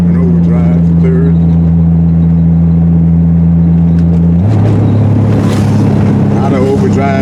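Triumph TR6 engine pulling up a small hill in third gear out of overdrive, a loud steady drone that drops in pitch midway, with wind roar and someone talking over it.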